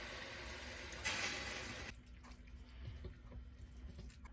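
Water poured into a lasagna sauce pot holding beef, cloves and deglazing wine, a brief bright splashing pour near and fairly loud for about a second, then quieter liquid sounds and faint kitchen clatter.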